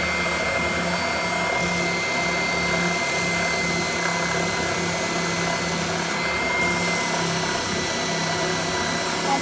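A Clarke belt and bobbin sander grinds steadily against wood, a constant close motor drone with an abrasive rasp underneath and slight shifts where the pressure changes.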